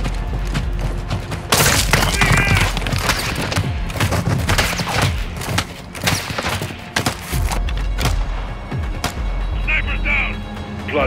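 Gunfire and sniper shots in the Call of Duty Modern Warfare 2 campaign, with sharp cracks and booming impacts scattered through a dense battle mix, and voices talking over the shooting.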